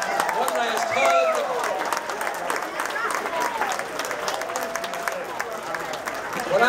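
Sustained crowd applause for a beach music band at a Carolina Beach Music Hall of Fame 2014 event. The dense, steady clapping fills the whole stretch while voices talk over it.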